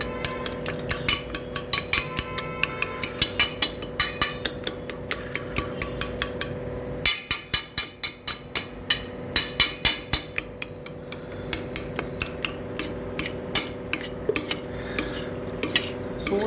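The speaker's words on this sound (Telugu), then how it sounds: "ఇప్పుడు ఈ కలర్ఫుల్ పప్పుని మంచిగా ఈ చెంచాతో నిజ్జు చేయాలి మెత్తగా" A spoon mashes colourful asparagus dal in a pot, a steady run of scraping and tapping strokes against the metal, close and fairly loud with no talk over it.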